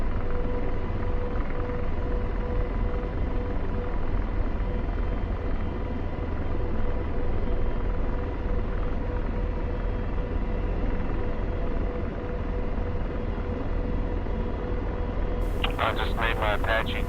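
Apache helicopter in DCS World lifting off, its turbine and rotor making a loud steady roar and low rumble throughout, with a brief radio-like voice near the end.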